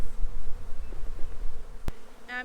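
Honey bees buzz in a dense, low hum around an opened backyard hive during a spring inspection, close and continuous, with a sharp click partway through and a brief higher whine near the end.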